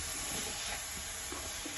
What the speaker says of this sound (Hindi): ये देखिए मसाला इस तरह भूनता जा रहा है।